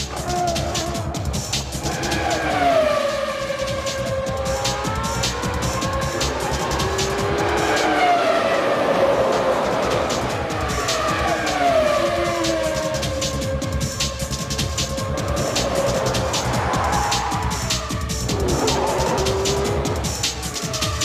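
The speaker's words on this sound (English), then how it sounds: "Villeneuve has a look, and this time is he going through? Yes! Eddie Irvine defers to Jacques Villeneuve" Formula One cars race during the 1996 season with high, whining engines that rise and fall as the cars pass and shift gears. A loud, continuous layered roar runs throughout, with commentary beneath it.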